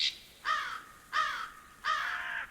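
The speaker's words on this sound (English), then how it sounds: "forest ambience" Birds in a forest, heard as three loud, harsh crow-like caws spaced evenly about seven tenths of a second apart, close by and alone against quiet background.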